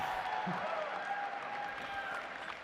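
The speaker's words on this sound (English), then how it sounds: "I really want to hear the crowd" Applause and cheering from a large audience at the Sony press conference during E3 2014, heard faintly and steadily, as if from a distance, for the whole span.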